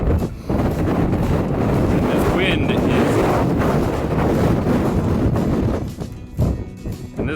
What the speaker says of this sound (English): And this wind is insane. I'm getting blown over by the gusts.